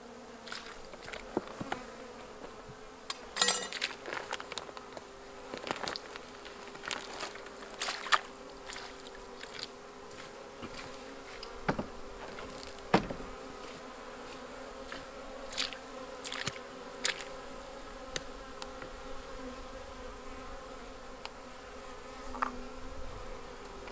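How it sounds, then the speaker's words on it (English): A dense swarm of honey bees hums steadily around a hive in spring, with individual insects buzzing louder as they pass close by, alone without any talking. "there are a lot of bees in this hive"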